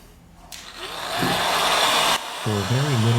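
A heat gun or hair dryer blows steadily on a Samsung A6 Plus screen assembly, a broadband airflow hiss that rises and holds for about two seconds before cutting out, with a brief voice-like hum near the end.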